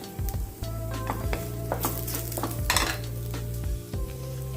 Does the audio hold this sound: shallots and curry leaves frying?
yes